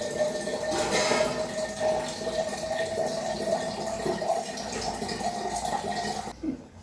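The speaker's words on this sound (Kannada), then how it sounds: "ಉಪ್ಪು ನೀರು ಹಾಕಿದ್ದಾಯ್ತು" Water streams into rice in a pressure cooker, a steady splashing pour that runs for several seconds before cutting off near the end, with no talking.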